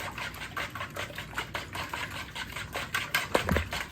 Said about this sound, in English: then you take your whisk and you beat the heck out of this.